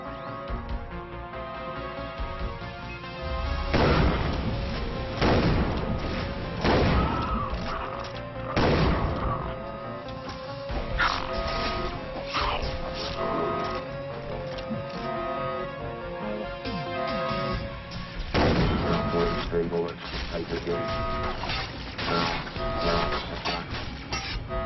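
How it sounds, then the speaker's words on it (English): Repeated shotgun blasts ring out in the retro-futuristic shooter Far Cry 3 Blood Dragon, loud and punchy against a steady backdrop of game music and ambience, with several sharp bursts spaced across the clip. "Shotgun."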